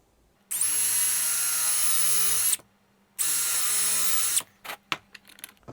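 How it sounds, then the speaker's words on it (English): A power drill fitted with a countersink bit bores into wood in two steady high-pitched bursts separated by a short pause, followed by a few faint knocks and clatter. "Use a countersink drill bit."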